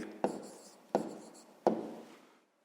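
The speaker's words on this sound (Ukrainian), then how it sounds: "Пишемо відповідь." Three separate strokes of handwriting as an answer is written out for a fifth-grade maths exercise, each a short scratchy burst with a quick onset that fades away; quiet and close, with no talking.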